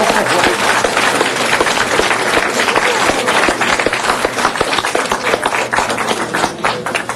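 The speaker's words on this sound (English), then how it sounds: "Let's give them a round of applause as they make their way up here." A crowd at a city council meeting applauds loudly and steadily, the clapping dense and sustained for several seconds before tapering slightly.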